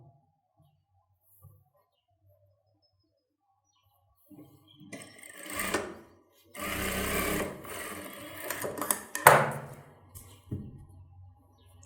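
Sewing machine stitching the lining of a child's pattu pavadai, heard in short close bursts after a quiet start, with the motor whirring between pauses and the fabric being handled.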